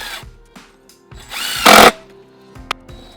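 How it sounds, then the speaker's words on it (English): A power drill drives construction screws into pine wood while a speaker stand is being built, with short whirring bursts, one loud sustained grinding run in the middle and a brief sharp final spurt. "using the construction screws and making sure it's all lined up, I'm going to put 4 screws on each side of this post."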